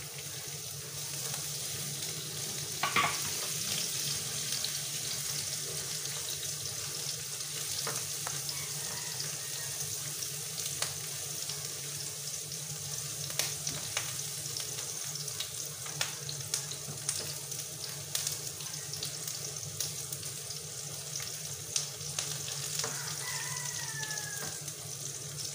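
Garlic sautéing in a little oil for squid adobo, a steady broadband sizzle running the whole time with occasional sharp crackles and faint utensil clicks, close and fairly loud.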